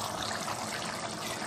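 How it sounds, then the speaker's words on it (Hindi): Lemon juice from two medium lemons poured into a dish of kheema and herbs, a steady close trickle of liquid splashing for a short moment with no talk. "जूस डाल देंगे।"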